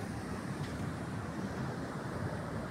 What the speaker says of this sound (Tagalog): ayun, may alon